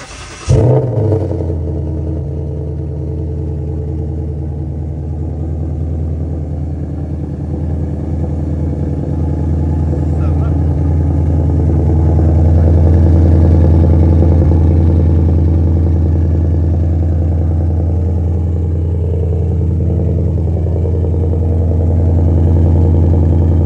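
A Ford Mustang GT 5.0 V8 cold-starts with a quick crank and catch, then settles into a loud, deep, rumbling high idle that swells slightly midway and holds steady, close by and with no talk.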